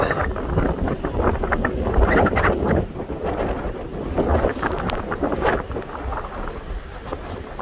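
Strong wind buffets the microphone on a wraparound condo balcony at Treasure Island Resort in Panama City Beach. A loud, steady rumbling roar continues throughout, with gusty surges and no voices.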